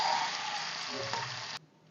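Urad dal, mustard seeds, dried red chillies and curry leaves fry in hot oil with a steady, close sizzle that cuts off abruptly near the end.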